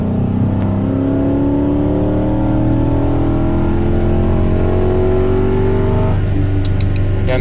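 Dodge Magnum RT with a Hemi V8 and K&N cold air intake revving on a dynamometer, a loud steady engine drone rising in pitch over several seconds, then easing off, with a few sharp clicks at the end.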